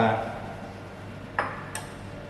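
A new glass beaker is set down in a chemistry lab experiment on the enthalpy of a strong acid and strong base reaction, giving two light, close clinks after a brief stretch of faint talk.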